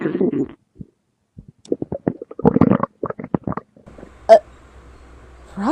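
A hungry stomach rumbles in a series of short gurgling growls and squelches, broken into irregular bursts with brief pauses between, fairly close and loud, with no talk over it.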